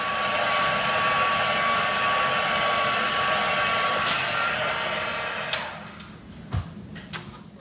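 Heat tool blowing on a watercolor wash for heat embossing, a loud steady fan-like roar that cuts off near the end, followed by a few faint clicks and handling noises.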